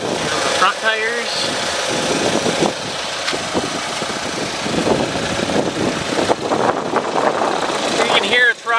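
A salvage-repairable 2013 GMC Terrain SLE with the 2.4 engine idles steadily beneath someone talking over much of the clip, the engine a continuous low hum with some clicks and handling noises.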